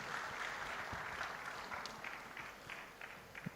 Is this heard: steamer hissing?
no